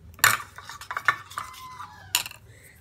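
A metal spoon stirs a small batch of aloe vera gel mixed with half a teaspoon of honey in a bowl, giving close, irregular clinks and scrapes with a few sharper taps and no voices.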